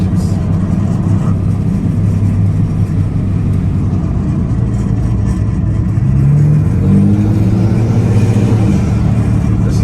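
A V6 car engine revving loudly and steadily close by, a dense low rumble rising in pitch toward the end as the revs climb, with no talk over it.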